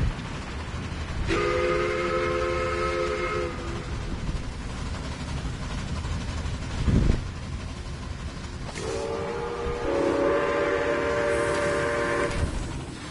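A train runs in a train empire video game, with a steady rolling rumble and two long, loud multi-tone horn blasts, the second longer and more layered, and no one talking.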